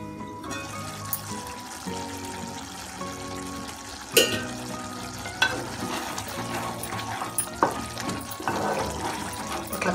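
Boti (goat tripe) curry with chilli powder being stirred as it fries in oil in a pan: a soft, steady sizzle broken by occasional scraping knocks of the spoon, fairly quiet and without talk.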